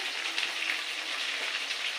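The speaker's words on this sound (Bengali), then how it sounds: "বাইরে অনেক বৃষ্টি হচ্ছে" Heavy rain pours down outside in a dense, steady hiss with faint patters over its short span, close to a kitchen where fish is frying in mustard oil; no voices are heard.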